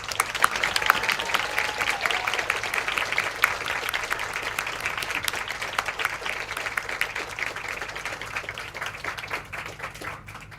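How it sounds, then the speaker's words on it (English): A large graduation ceremony crowd gives a sustained round of applause, thick continuous clapping filling a hall for several seconds before it begins to thin out near the end. "And join me in a round of applause."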